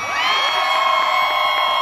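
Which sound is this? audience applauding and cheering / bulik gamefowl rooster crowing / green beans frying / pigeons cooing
audience applauding and cheering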